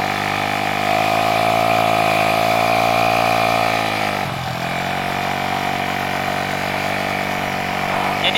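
A Honda Scoopy scooter with a bored-up engine, running on Pertamax Turbo fuel, revs loudly and steadily up close. The pitch dips briefly midway, then climbs back to a sustained high-rpm drone.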